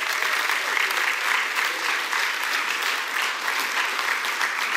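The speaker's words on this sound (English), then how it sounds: "give him a hand clap of praise" Steady, dense applause from a church congregation fills the room for several seconds, evenly sustained and moderately loud, with no clear voices standing out.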